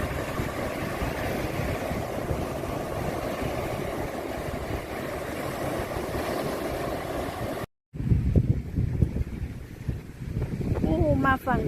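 Strong wind buffets the microphone at Jomtien Beach in the early morning, a steady loud roar that breaks off briefly and then returns gustier, with a boat engine idling nearby and voices talking over it.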